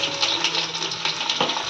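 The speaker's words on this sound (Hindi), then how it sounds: "अब मैं इनका पानी निचोड़ दूंगी और सीधे इसमें डाल दूंगी" Water squeezed by hand out of soaked food drips and splashes into a cooking pan, a short wet trickle and patter close by.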